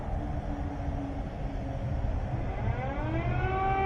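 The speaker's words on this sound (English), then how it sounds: "Air raid siren in Kyiv." Air raid siren wailing over Kyiv, a distant civil defense siren rising steadily in pitch and growing louder, picked up on a livestream over low background rumble.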